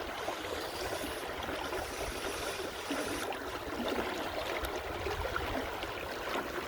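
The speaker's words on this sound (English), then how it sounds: "I finally made it down to that brook that empties into here." A brook flowing into a New Brunswick river: steady broadband rushing and gurgling water, continuous and fairly close, with no voices over it.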